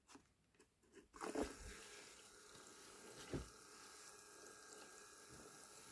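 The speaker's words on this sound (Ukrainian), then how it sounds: "Вмикаємо вир і дивимося, чи затягнеться ковпачок під воду." Water swirls in a small hand-made whirlpool, heard as a quiet, steady rush and trickle. A few clicks and splashes come near the start, with a brief louder slosh around the middle.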